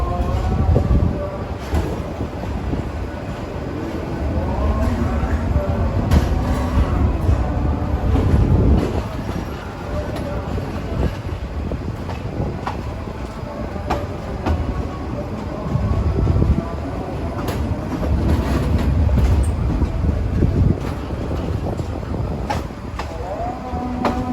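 A train rumbles along steadily with rhythmic rattling and clanking of carriages, loud and close, with no voices.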